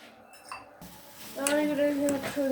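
Ramen being stirred in a cooking pot, with faint clinks and scrapes of a utensil against the pot, soon joined and partly covered by a person talking.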